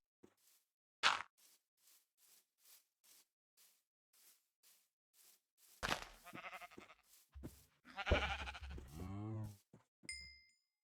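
Sheep in the Better Than Wolves block game let out a few close, loud bleats, set against a steady, evenly spaced run of soft ticking steps.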